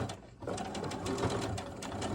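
Sewing machine stitching a seam on a small fabric gift item, a close, steady rapid mechanical whirr and chatter that starts after a brief pause and runs continuously, with no talk.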